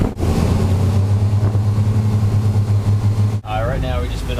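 A loud, low boat engine idles with a steady throbbing rumble close by, and a voice briefly begins speaking near the end.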